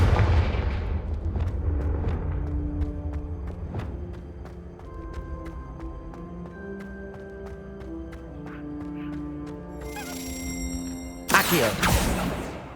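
Confringo spell explosions in the video game Hogwarts Legacy, a series of booming blasts spaced through the scene with musical tones underneath, ending in a louder burst.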